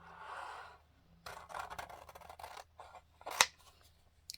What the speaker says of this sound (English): So I'm going to cut those out.